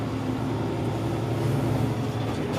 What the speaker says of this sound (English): you can hear the truck downshifting and upshifting through its gear changing